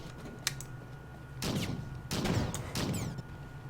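Gunfire in the video game Xenowerk shooting radioactive barrels: a couple of short bursts of rapid shots with crackling impacts between quieter moments, no speech.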